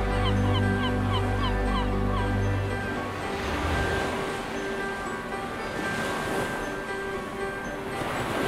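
A man imitates a seagull with repeated honking, squawking calls, loud and close over a steady background rumble.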